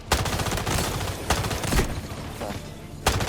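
Video game gunfire with a K416 rifle, sharp close shots arriving in short bursts with brief gaps, loud against a busy in-game background and no talking.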